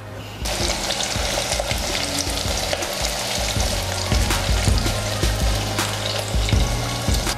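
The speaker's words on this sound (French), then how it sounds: "le temps que ça s'échauffe un peu, j'ai ajouté les oignons épluchés." Peeled onions fry in hot oil with a dense, steady sizzle and crackle that holds loud and close throughout, with occasional soft clinks and stirring noises on top and no talking.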